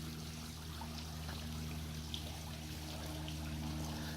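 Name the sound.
spa water overflowing into the pool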